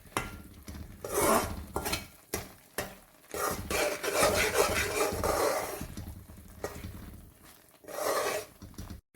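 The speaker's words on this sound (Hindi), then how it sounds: "अब इसे भी हमने भूनना है जब तक कि ये सिमट ना जाए, ये हलवा जो है।" Semolina halwa being roasted and stirred in a pan: a spoon scrapes and rubs against the metal in repeated bursts of varying length, close and moderately loud, with brief pauses between strokes and a faint sizzle beneath.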